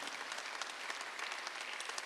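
A church congregation at Sunday worship claps together, a steady, even burst of applause lasting a couple of seconds, moderately loud with no talk over it.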